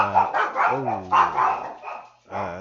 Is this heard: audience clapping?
no